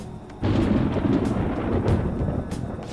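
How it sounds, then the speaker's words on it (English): Thunder rumbles in the video game Persona 5 Royal ahead of rain, a deep rolling roar that swells suddenly and continues loud and sustained, with no talking over it. "It sounds like it's going to rain."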